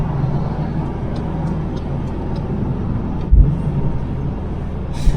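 Motorbikes revving on the road, heard as a loud, continuous engine roar with a broad rumbling tone and a brief louder thump partway through, with no talk.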